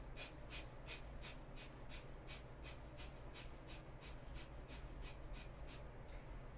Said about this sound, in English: Belly panting and the air coming out of the nose only.